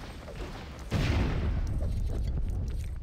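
Explosion in the LEGO City Undercover video game: a sudden loud boom bursts in about a third of the way through, then settles into a sustained rumbling roar that slowly fades.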